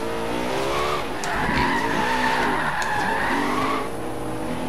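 Car drifting in the Forza Horizon 3 racing game during a meetup, tires skidding and squealing in long sweeping wails over a revving engine, loud and continuous with no talk.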